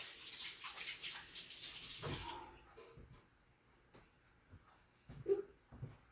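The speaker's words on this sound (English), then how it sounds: "I'm going to wash my hands first" Hands washed under a running kitchen tap, a soft hissing stream for about two seconds that stops, followed by faint wet rubbing and a few small clicks and knocks at close range.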